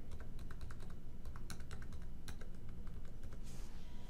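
Fingers type card details on a computer keyboard, a steady run of quick, close keystrokes with a few sharper clacks, heard alone with no talking.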